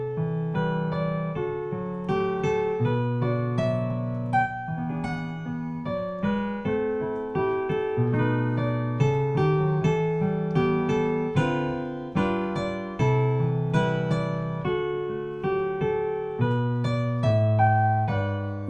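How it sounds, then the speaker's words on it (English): A plucked koto melody in a Japanese yo mode, its bright, distinct notes in a steady rhythmic line over a lower pattern, clear and close with no voices. "melodically, it's a koto, and we're in a sort of yo mode"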